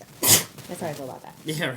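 A single sharp sneeze bursts out near the start, followed by casual conversation between people talking.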